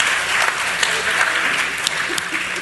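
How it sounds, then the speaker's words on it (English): An audience at a panel talk event applauds its dialogue leaders with steady, dense clapping that fills the room evenly throughout, with a few sharper individual claps standing out near the end. "Let's give our dialogue leaders another round of applause."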